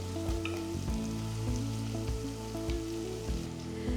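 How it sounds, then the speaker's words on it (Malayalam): Garlic and ginger sauté in hot oil for a sardine curry with coconut milk, giving a steady close sizzle broken by regular stirring scrapes, with no voices. "ഇതെല്ലാം കൂടെ നന്നായിട്ടൊന്ന് വഴറ്റിയെടുക്കുക."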